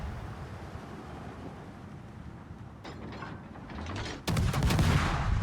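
Naval gunfire in a warship video game battle: a muffled boom under a low engine-like rumble, followed by a louder burst of firing and blasts that continues to the end.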